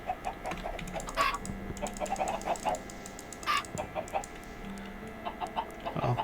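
Synthetic chicken clucks from the video game Technomancer pop up a few times over rapid keyboard typing and clicking, with a faint electronic hum underneath.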